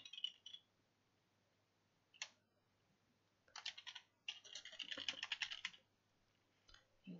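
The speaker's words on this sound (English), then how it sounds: "I should type in the right one." Computer keyboard typing in quiet bursts of rapid clicks, a short flurry, a lone tap, then a longer run of keystrokes, close and soft with no talk.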